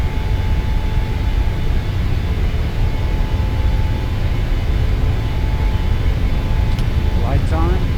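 An Alaska Airlines jet airliner takes off from Honolulu, heard from inside as a steady, loud broadband roar that holds throughout, with brief faint voices near the end.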